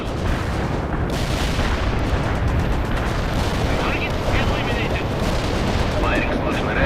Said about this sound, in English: Artillery lined up. Firing.